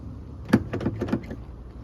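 Rear door lock actuator on a Lexus GX470 engaging, a short close cluster of mechanical clicks and clunks lasting under a second, with no talk over it.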